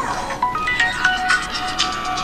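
A mobile phone rings with a bright electronic ringtone melody of short repeating tonal notes, fairly clear over a light background hiss in a Batak comedy sketch.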